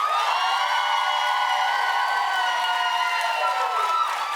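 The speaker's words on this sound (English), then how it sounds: "Clap if you think it ought to be Dwayne" Talk-show studio crowd cheering and screaming with some clapping, a loud continuous roar of high-pitched voices that holds steady for several seconds.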